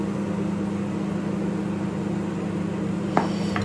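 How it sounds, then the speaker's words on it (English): A microwave oven runs in a home kitchen, heating a baked potato, giving a steady low hum with a constant electrical drone, followed near the end by a couple of brief clinks. "That noise is the microwave,"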